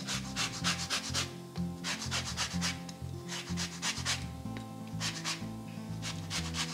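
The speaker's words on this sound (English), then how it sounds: "Making sure only to get the top layer when zesting" A zester scrapes the top layer of a lemon's peel in quick, rhythmic rasping strokes, close and crisp, with brief pauses between bursts, while mayo-based shrimp cake mixture is being prepared.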